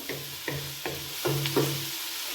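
Carrots are stirred in a pan as they cook, producing soft, rhythmic scraping strokes about every half second over a steady faint sizzle.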